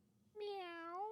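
A person imitates a cat's meow in a pre-recorded take: one drawn-out, rising-then-falling mew, loud and close, alone in a quiet room.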